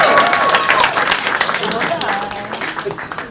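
Audience applause for Miss T, a performer at the live event The Flame: a crowd claps steadily and fairly loudly, tapering slightly, with voices mixed in.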